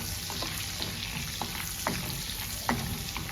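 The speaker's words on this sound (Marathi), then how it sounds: "शेंगदाणे जरासे परतवून घ्यायचे।" Peanuts and cumin roast in a hot pan for spinach daliya khichdi, making a steady close sizzle punctuated by several sharp crackles and stirring scrapes.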